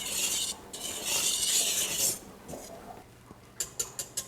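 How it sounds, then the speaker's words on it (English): A wire whisk briskly stirs whole milk and cocoa powder in a bowl, giving a bright, hissy scraping swirl for about two seconds, then softer stirring and several sharp taps of the whisk against the rim. "Now I just have to mix it with a wire whisk."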